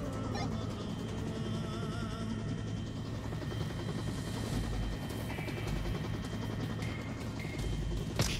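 Helicopter in the VR shooter Onward, a steady rotor drone with chopper music and scattered gunfire-like pops from the game, moderately loud and continuous throughout.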